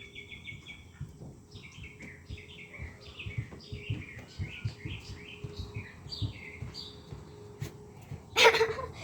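A pet bird chirps and tweets in a steady run of short, bright calls in a quiet room, ending in a louder burst near the end.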